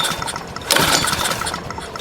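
A Pramac GC160 generator with a Honda engine, abandoned and running short on fuel, cranks and catches in a sudden louder burst about midway, then keeps up a rough, busy mechanical clatter close by.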